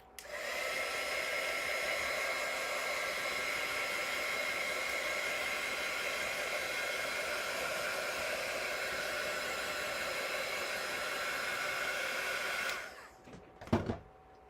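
A hair dryer blowing on a handmade paper card produces a steady, even whooshing roar for about thirteen seconds, then switches off and winds down, followed by a brief knock as it is set down.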